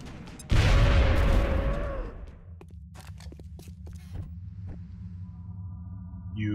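A frag grenade blasts with a loud, booming roar in XCOM: Enemy Within and slowly dies away, then a string of sharp gunshots cracks at intervals over a low hum.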